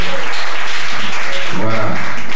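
Congregation at a thanksgiving church service clapping to acclaim the Lord, dense loud applause throughout, with voices calling out beneath it.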